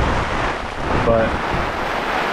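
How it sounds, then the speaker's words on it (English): Heavy rain from Hurricane Idalia pours down as a dense, steady hiss, mixed with wind buffeting, and a brief word is spoken partway through. "yeah, it's starting to pour"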